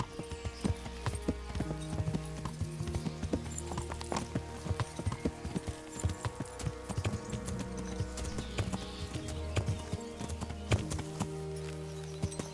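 Horses in the medieval open-world game Kingdom Come: Deliverance clip-clop steadily nearby, hooves striking in an irregular walking rhythm over a low ambient music bed, with an occasional faint whinny.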